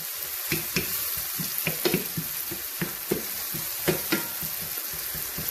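Onion and garlic sizzle softly in a pan under a steady hiss, with scattered scraping clicks and taps as a utensil stirs them.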